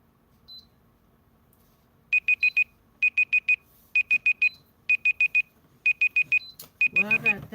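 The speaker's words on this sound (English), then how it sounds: "Okay, so I'm cooking, so that's my alarm for my food." A food timer on the kitchen stove beeps in repeated bursts of four quick, high electronic tones, six groups in a row, with a brief voice at the end.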